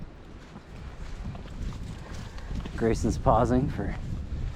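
Wind blowing across an exposed mountain trail on the Appalachian Trail in the Roan Highlands, a steady broadband rush that swells and gusts, with people talking over it and a few footsteps.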